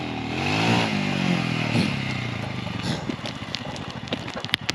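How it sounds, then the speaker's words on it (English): A motorcycle straining uphill at high altitude in Ladakh, its engine labouring and losing power: a rough, rising and falling drone close by, fading into sputtering clatter, with voices shouting over it. "the bike's really run out of power at this altitude"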